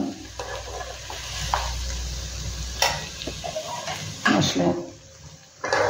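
Rice with spices for a tomato pulao is stirred in a pan, giving soft scraping and gentle sizzling close by while a person talks quietly over it.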